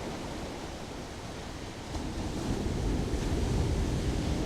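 Surf rolls in at Côte des Basques beach in Biarritz during a women's longboard pro contest, a steady broadband roar that swells louder after about two seconds, with wind buffeting the microphone.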